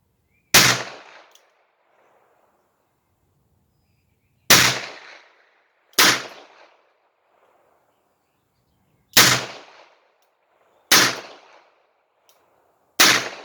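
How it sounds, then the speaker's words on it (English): A Smith & Wesson 17-3 .22lr revolver fired one-handed gives six sharp, loud cracks at irregular intervals, each followed by a brief decaying echo, with silence between shots. "I can't remember the last time I shot the 17-3. I'll shoot one-handed here."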